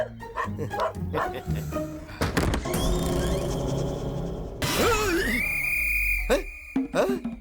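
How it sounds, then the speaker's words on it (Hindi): A dog-bark doorbell chime sounds several quick electronic barks, followed by a rising electronic tone, with a person talking in between. "कोई कुत्ते के भौंकने की आवाज को डोरबेल की आवाज बनाता है क्या?"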